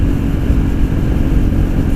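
KTM 390 Duke fitted with an Akrapovic Moto2 GP titanium slip-on exhaust, a steady loud low engine rumble running without a break throughout, heard close up and alone.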